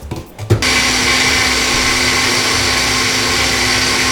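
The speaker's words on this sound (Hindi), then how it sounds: "इसे ग्राइंड कर लेते हैं" A kitchen blender whirs loud and steady after a couple of brief starting pulses, grinding tomato soup ingredients into a smooth mix, close up with no voices.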